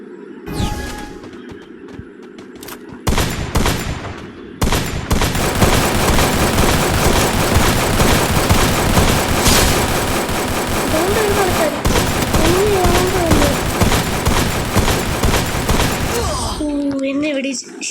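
AK-47 gunfire in the shooting game Free Fire Max rattles in long, loud, continuous automatic bursts lasting over ten seconds, with a player's voice heard briefly before and during the shooting.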